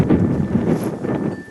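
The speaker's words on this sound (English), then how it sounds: "it's a little too windy right now" Gusty outdoor wind buffets the microphone in a steady broadband rumble with soft swells, continuous and fairly loud throughout, with no voices.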